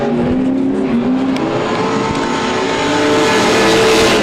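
Drift cars running tandem at a Drift Colorado competition, 2018 round two, engines roaring loudly and steadily with rising revs and tire noise, no talk over it.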